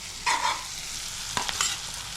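Tomato is stirred into a pan of spicy Karnataka-style chicken fry, with a soft background sizzle and a few distinct spoon scrapes and clinks against the pan; nobody talks.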